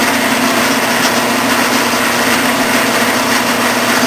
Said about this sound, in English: I'm going to reverse the machine and then back it out